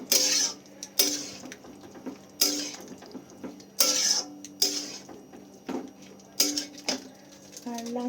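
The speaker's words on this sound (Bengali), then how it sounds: "এবার ভালো করে মশলার সাথে আমি চানাটাকে মিশিয়ে নেব।" Chickpeas being mixed with spices in a pan for chana masala, heard as a series of rhythmic metallic scraping strokes of a spoon against the pan, roughly one per second, close and fairly loud.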